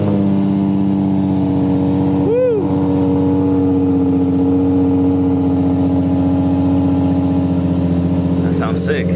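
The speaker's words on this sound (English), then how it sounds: "So that's the spacer mod in the exhaust." An Infiniti G37 with a spacer exhaust mod idles with a steady, loud, low rumble, with a brief rev blip early on, and voices are heard faintly over it.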